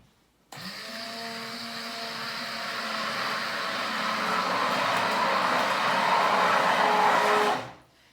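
A blender whirs steadily through a natural soap mixture, a loud continuous motor drone that starts abruptly, swells slightly in intensity over several seconds, then cuts off.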